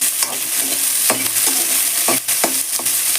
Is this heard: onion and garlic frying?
yes